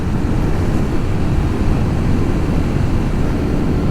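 A Suzuki DRZ400 dual-sport motorcycle with a 40-horsepower engine being ridden produces a loud, continuous, dense roar of engine and rushing wind that stays even throughout without any break.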